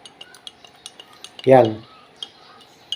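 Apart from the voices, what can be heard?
stirring acidic soap in water to dissolve it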